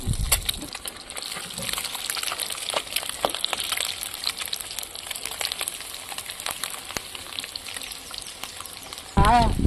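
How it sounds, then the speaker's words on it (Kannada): Curry leaves crackle and spit in hot oil, a steady close sizzle dotted with sharp pops, ending in a sudden louder splash of frying. "ಇದು ಕರಿಬೇವು ಹಾಕಿದ್ಗಳು ಚಟ್ಪಟ್ ಆಗ್ತಾವ"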